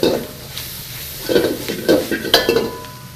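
Spicy pork with chili powder stir-fried in a wok on a Chinese range: a steady sizzle with repeated scraping and clanking of the spatula against the wok, close and loud, no talking.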